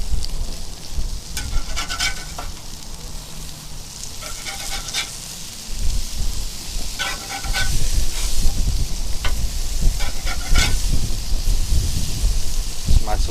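Greek turkey burgers sizzling on a grill after being flipped, a continuous hiss with intermittent scraping and clinking of a spatula, growing louder toward the end.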